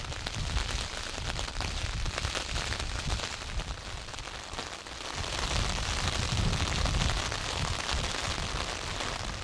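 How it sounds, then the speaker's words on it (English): Steady wind and rain sweep across a misty upland moor, a continuous broadband wash with gusts that swell louder in the second half, no voices. "As I'm making my way into the prevailing wind and rain"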